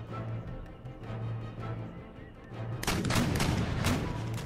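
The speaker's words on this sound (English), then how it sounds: "We're only going to fire one volley." Musket volley fire erupts in the Empire: Total War battle game, a dense rolling crackle of many gunshots bursting in after a quieter stretch of low battlefield rumble, loud and sustained to the end.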